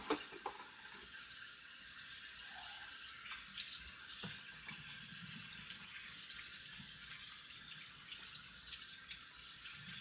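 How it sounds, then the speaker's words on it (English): Ribs are rinsed under a running kitchen tap, with faint, steady water flow, splashing and a few small drips or knocks heard softly throughout, without any talking. "So while we're rinsing it"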